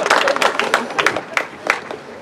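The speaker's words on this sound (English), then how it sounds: "let's give China a round of applause for getting it right for once" A crowd at a political rally in Olympia claps and cheers in brief scattered bursts, moderately loud and fairly close, fading into sparser claps.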